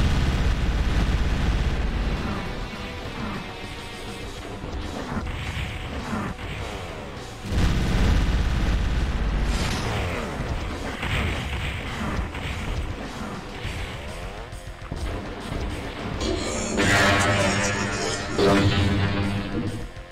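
Doom II gameplay blasts with repeated booming rocket explosions and rumbling crashes against a dense backdrop of game music and effects, loud and continuous throughout.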